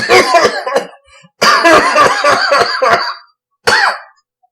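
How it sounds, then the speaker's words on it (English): A man coughs in a podcast setting, with a burst of several harsh coughs, a second longer run of rapid coughs after a pause, and then one final short cough, all loud and close with no talk. "See, I told you he had a cough."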